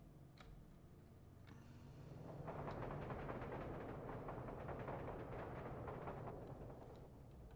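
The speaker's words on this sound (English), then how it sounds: "There comes our second train, nicely timed." A train rolls through a Soviet-era industrial city in the building game Workers & Resources: Soviet Republic, a steady rumbling wash that swells after a couple of seconds and holds at moderate loudness with faint ticking over it.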